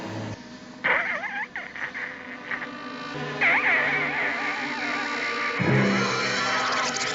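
An eerie insect-like buzzing from a Star Trek episode wavers and warbles in pitch, rising and falling in swooping glides, loud and continuous for several seconds, with a low rumble entering near the end.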